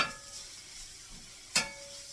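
Reconstituted hash browns frying in a pan, giving a soft, steady sizzle with one sharp scrape or clatter partway through.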